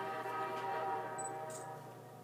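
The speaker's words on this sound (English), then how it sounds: "Train's here." An in-game train pulling in during the video game Portal 2, a sustained tonal rumble with layered humming pitches, steady and fairly loud throughout, tapering slightly at the end with no talk over it.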